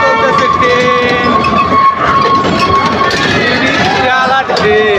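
A small amusement park ride train runs at Fantasy Kingdom with a steady mechanical rumble and a whistle-like tone, while riders shout and talk loudly over it throughout.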